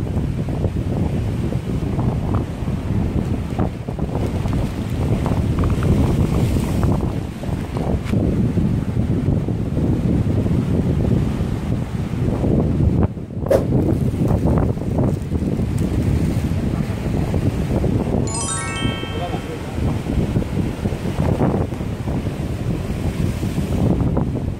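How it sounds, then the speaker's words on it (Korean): Strong gale-force wind roars across the coast of Chuja Island, loud and constant, buffeting the microphone with surf-like rushing and a brief whistle partway through. "바람이 어마어마하게 많이 불고 있어요"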